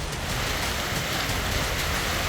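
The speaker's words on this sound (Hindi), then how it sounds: "काफी देर तक ओलावृष्टि होती रही" Hail falling steadily in a Kashmir hailstorm, a dense continuous patter and hiss with no breaks across the whole stretch.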